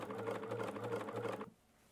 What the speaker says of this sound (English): We're going to start sewing the curve again, so reduce your stitch length